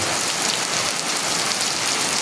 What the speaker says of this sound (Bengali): অঝর ধারাতে বৃষ্টি